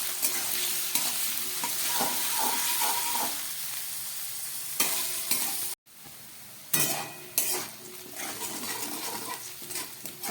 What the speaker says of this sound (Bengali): এবার এই তেলের মধ্যে আমি দিয়ে দেব সেই হাফ সিদ্ধ করে রাখা সবজিটা।